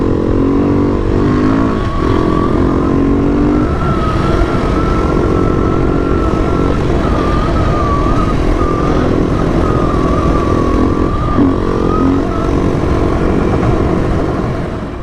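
Beta 390 RR enduro motorcycle riding through Australian bush, a loud steady engine drone that holds near and constant throughout with slight shifts in pitch and no talk.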